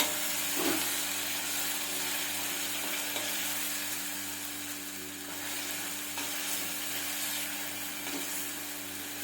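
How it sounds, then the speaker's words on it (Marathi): Raw mango sautés in oil in a pan with a steady, even sizzle that carries on close and unbroken from start to finish, with no voices. "अशीच 2 मिनिटं तरी किमान आपल्याला परतून घ्यायची आहे. तिला असं थोडंसं चांगलं तेलात शिजल्यासारखं करायचं आहे आपल्याला."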